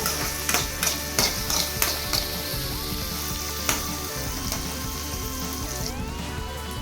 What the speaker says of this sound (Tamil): பூண்டு சேர்த்துக்கலாம் அடுத்து வந்து சின்ன வெங்காயமும் சேர்த்து நல்லா வதக்கிக்கலாம்